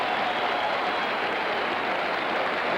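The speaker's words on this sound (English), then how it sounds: "Listen to the crowd." A large racetrack crowd roars continuously after Secretariat's Triple Crown win, a loud, dense, unbroken wall of cheering with no pauses.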